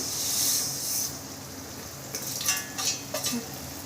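Semiya vermicelli frying in a pan for upma, a steady high sizzle with a few scraping stirs of a spoon against the pan midway, close and fairly quiet with no voices.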